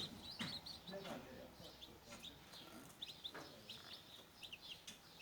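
Faint, high chirps from eight two-day-old chicks repeat steadily over a hissy background, with a voice talking over them.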